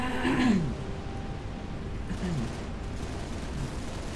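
Covenant shade turret in Halo Reach firing repeatedly, a loud burst early on followed by steadier ongoing gunfire blending with game ambience, with a couple of further softer shots later.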